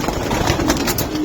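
Racing pigeons in a loft give soft, low cooing, close and continuous in a brief stretch.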